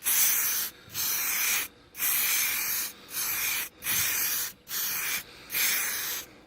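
Cobra spray paint hisses from an aerosol can in six steady bursts of about a second each, separated by short pauses, close and loud with no talking.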